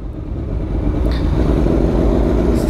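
A Riva motorcycle built from four Titan 150 engines into 600cc roars steadily at close range with a dense, loud, continuous engine drone and no talking.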